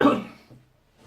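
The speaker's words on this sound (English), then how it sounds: "I'm gonna have to cough." One short, harsh cough from a nearby woman, loud at first and fading fast, followed by quiet.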